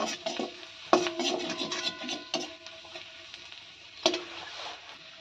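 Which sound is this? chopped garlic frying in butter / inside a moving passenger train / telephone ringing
chopped garlic frying in butter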